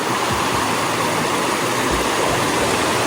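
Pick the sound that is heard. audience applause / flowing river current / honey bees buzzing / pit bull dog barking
flowing river current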